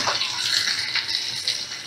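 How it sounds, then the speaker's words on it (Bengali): Water is poured steadily from a cup into a pan holding a ripe mango dish, a close, continuous splashing pour with no talking. "এই কাপের 1 কাপ জল দিয়ে দিলাম"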